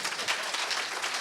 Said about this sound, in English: Let's give a warm round of applause to Congressman Allen West.